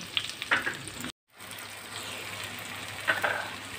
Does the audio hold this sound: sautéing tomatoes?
yes